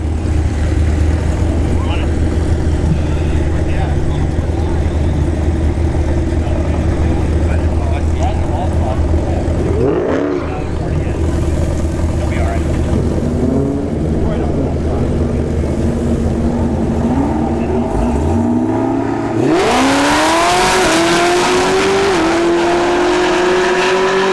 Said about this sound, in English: I'm rolling with Joe Krachenko here in the left lane and the CTSV